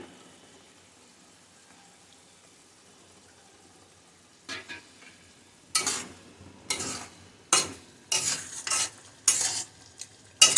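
Cashews frying in hot oil in a pan: near-silence at first, then a run of sharp sizzling bursts and stirring scrapes that grow louder toward the end, close up with no voices.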